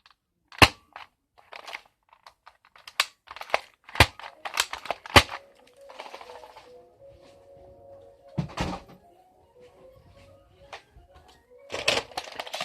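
A Nerf Ghost Ops Mavic Rev 6 blaster with a broken handle fires in a run of sharp pops and snaps. Lighter plastic clicks and rattles sit between the shots, close to the listener, with quiet gaps in between.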